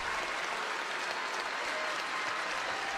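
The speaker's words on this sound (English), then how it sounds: "Gets a nice round of applause." Steady wash of crowd applause in an NBA arena during a Warriors versus Mavericks basketball game, distant and continuous with no breaks.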